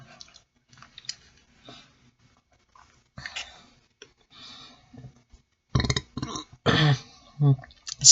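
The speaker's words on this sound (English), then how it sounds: "Excuse me for all the burping" Someone eating chicken feet lets out several loud burps in the latter half, between quiet chewing and clicking mouth sounds, close to the microphone.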